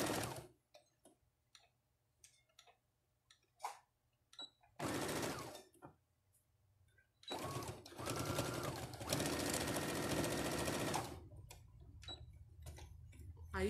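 A sewing machine joins fabric pieces of a handbag with a size 14 needle, running in several separate bursts of stitching, short at first and then a longer steady run, with quiet pauses and small handling clicks between.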